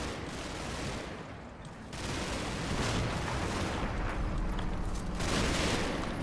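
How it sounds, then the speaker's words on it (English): Many machine guns fire at once in the World War II game Combat Mission Final Blitzkrieg, making a loud, unbroken roar of overlapping gunfire that swells slightly partway through. "Just listen to all of those MGs going off there."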